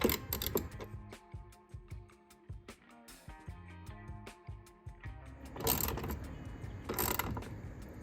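A 10mm bolt is tightened on a Ford F150 door check arm: a dense run of close metallic ratchet clicks, quick and irregular, broken by brief pauses and a couple of louder rattling bursts near the end.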